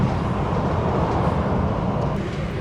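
Interior rumble of an extra economy-class Lebaran holiday passenger train running at speed between Yogyakarta and Gambir, a continuous, fairly loud low roar with steady rolling noise and no talk.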